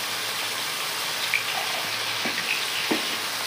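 A turmeric spice paste fries in a pan with a steady, even sizzle and hiss, broken by a few soft taps from the spoon, with no talking.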